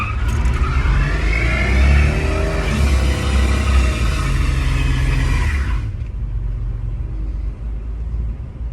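A 1992 Chevrolet S10 long-bed single-cab pickup with a 4.3-liter engine drives close by, a loud, steady engine drone with rising revs and road rumble that drops into a lower, muffled roar toward the end.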